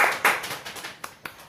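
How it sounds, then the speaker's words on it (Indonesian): A short burst of hand clapping in a classroom, a few quick claps at first then fading into scattered single claps, moderately close with no talking. "Beri tepuk tangan untuk semuanya."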